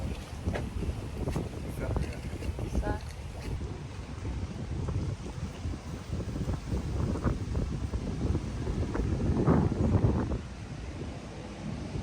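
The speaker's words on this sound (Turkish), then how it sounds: "Soğuk esiyor yani." Cold wind blows steadily at the edge of the Dalyan strait, a broad rushing buffet against the microphone with water and boat noise beneath, while people talk intermittently through it.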